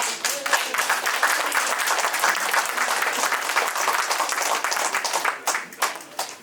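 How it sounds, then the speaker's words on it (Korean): Audience applause at a book concert talk show, a dense, loud, sustained round of clapping from a crowd that thins out near the end, with no speech. "여러분 큰 박수 부탁드리겠습니다."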